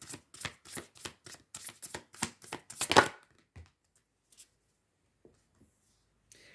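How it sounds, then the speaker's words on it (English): Playing cards shuffled in a quick run of about a dozen crisp riffling bursts, close and clear, ending in a final louder snap before near silence with a few faint taps. "as I'm shuffling those cards"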